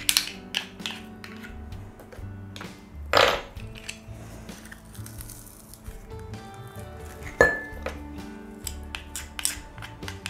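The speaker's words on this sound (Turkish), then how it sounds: "Bunu güzelce bir eziyoruz. Sarımsağımızı ezelim." Garlic cloves are crushed in a bowl, giving irregular close taps, squishy presses and a few sharper clinks and knocks against the dish, with quiet gaps between.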